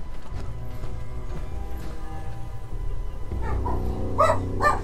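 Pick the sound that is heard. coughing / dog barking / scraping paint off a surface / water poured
dog barking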